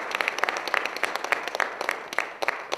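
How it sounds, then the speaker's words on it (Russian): An audience applauds at a piano concert of Willy Weiner's pieces at the Moscow Jewish Community Center, a steady wash of many hands with sharper individual claps standing out, fairly distant and even throughout. "Ваши аплодисменты."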